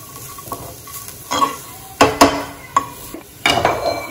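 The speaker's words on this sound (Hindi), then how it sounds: "इसे हल्का कलर चेंज होने तक हमें सेकना है।" Ingredients for wada pav being stirred and dry-roasted in a pan, with a spoon scraping and clinking against the metal in irregular bursts over a faint sizzle, close and fairly loud with no talking.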